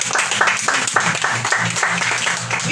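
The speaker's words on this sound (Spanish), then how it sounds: "¿Cuántos son capaces de darle un fuerte aplauso a Dios?" A church congregation claps together in praise, loud and close, with the clapping falling into a rough rhythmic pulse of bursts over a sustained wash of hands.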